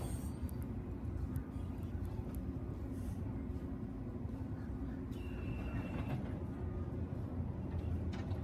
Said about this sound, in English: it's powering up, it's getting ready to go.